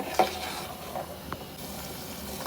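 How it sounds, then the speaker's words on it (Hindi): Masala spices roasting (bhuna) in a pan for homemade korma, a soft steady sizzle with a few faint scraping stirs, close and fairly quiet with no talk. "मसाले को अच्छी तरह हम भून लेते हैं।"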